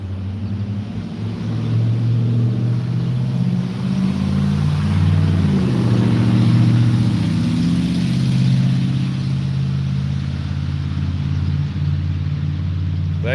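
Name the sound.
cars driving past on the road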